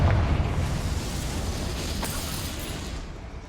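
A deep booming blast from the Confringo spell in the video game Hogwarts Legacy, loud and close at the start, then a long rumbling tail that slowly fades.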